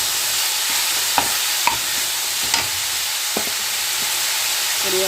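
A fish chop mixture with onion frying on medium heat: a constant even sizzle and hiss, broken by a few sharp clicks and scrapes of a spoon against the pan, close by, with no voices.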